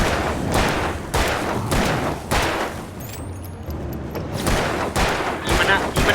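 Gunfire in the video game Alan Wake 2, several loud sharp bursts in quick succession, a brief lull midway, then more shots close and heavy.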